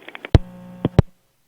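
A telephone line gives electronic tones after the caller hangs up: a few soft beeps, then loud sharp clicks over a steady hum, close and alone.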